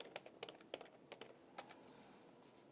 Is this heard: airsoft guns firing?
no